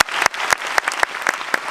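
Audience applause in a hall at a leadership seminar, steady crowd clapping punctuated by sharp, rhythmic louder claps roughly every quarter second.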